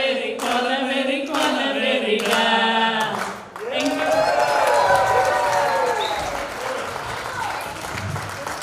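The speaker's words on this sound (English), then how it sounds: "Another round of applause just for the Why This category." Audience at a 50th birthday party applauding and cheering after a singing group performs Why This Kolaveri Di, a loud continuous crowd of clapping that swells and lingers, with a voice briefly heard near the start.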